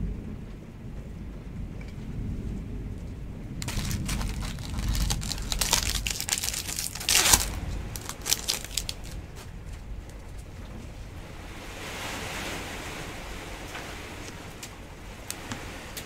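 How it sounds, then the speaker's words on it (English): A hailstorm pelts the surroundings with dense pattering and crackling bursts. The clatter swells in loud waves midway, with rumbling underneath, then settles into a softer steady patter. "I'm going to keep working through this hailstorm."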